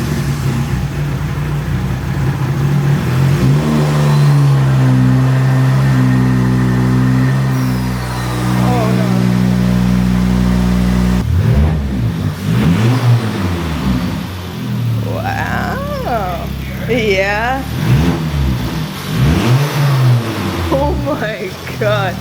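A Volvo engine fitted with a new intake rumbles at idle, then revs up repeatedly in loud rising and falling bursts, heard close by with people talking over it at times.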